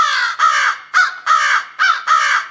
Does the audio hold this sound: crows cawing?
yes